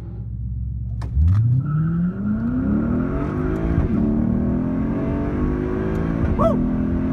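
A Mercedes C43 AMG accelerates hard while racing a Lexus ISF, its engine note climbing steadily in pitch after a sharp throttle blip, loud and close, with brief outside noises over the sustained roar.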